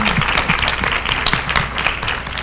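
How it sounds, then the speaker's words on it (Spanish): An audience at a human rights panel applauds a guest, loud close clapping that stays thick and continuous over a low background hum. "Les pido por favor también un fuerte aplauso."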